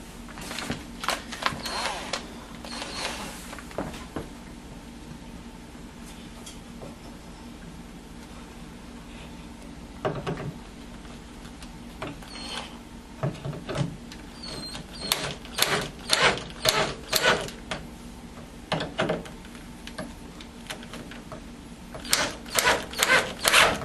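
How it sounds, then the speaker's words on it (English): Screws being driven partway into a wooden speaker panel of a MAME arcade cabinet, heard as a run of short, sharp mechanical bursts that grow more frequent and louder toward the end over a quiet background hum. "now I can just take and run these screws on in just a little bit"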